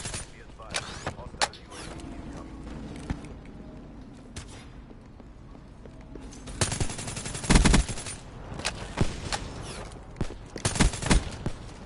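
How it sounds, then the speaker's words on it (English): Shotgun and other gunfire in Call of Duty Black Ops 3, a scattered run of sharp loud blasts with a dense cluster of shots in the middle and more near the end, over game ambience while someone talks. "Now he's using a shotgun."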